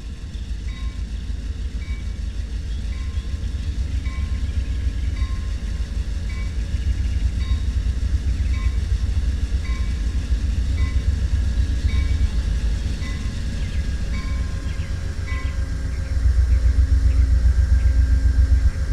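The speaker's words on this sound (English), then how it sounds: "Northbound train, boarding on track 1-2, Lake Worth is now arriving." A northbound train arriving at a station in the Rail Sim Universe video game, with a steady low engine rumble, faint tonal hums and a swell of louder rumbling near the end, continuous throughout with no talking.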